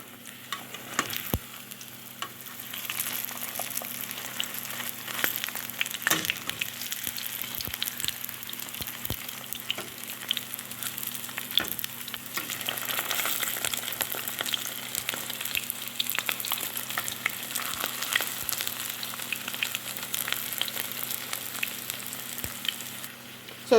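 Curry saltfish fritters sizzle steadily in hot oil for the whole stretch, a dense crackling fry with scattered sharper pops and ticks, close and continuous with no voices.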